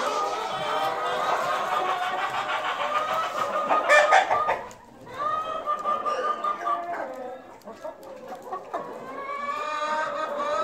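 Chickens cluck and squawk inside a coop while eggs are being collected, a busy, close chorus of overlapping clucks with a brief lull midway before the birds pick up again.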